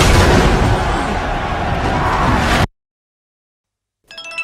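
A bomb blast at a house: a loud, sustained rumbling boom that cuts off abruptly into silence, then a faint noisy return at the end.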